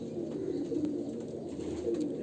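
A male Andhra pigeon coos in short, low, throaty murmurs, nearby and fairly quiet, running unbroken over a steady background hiss.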